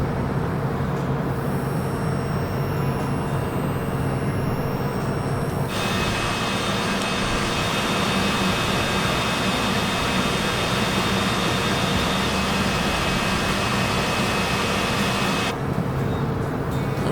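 Steady, loud aircraft engine drone fills the cabin throughout a turn onto final approach, a constant broadband roar with a shift in tone partway through and no talk.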